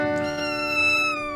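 A kitten meows once in a single drawn-out, close, clear cry during a home kitten-racing session, with nothing else audible.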